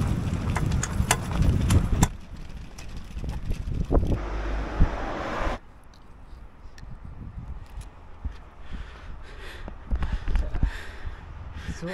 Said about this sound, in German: Und das ist so windig hier.